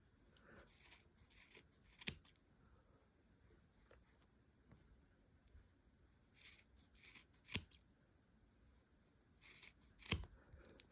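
Scissors snip through the top layer of yarn for tassels, giving a few quiet, separate cuts amid faint rustling of the strands, close and soft.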